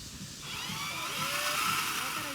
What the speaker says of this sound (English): I'm just going to keep pre-drilling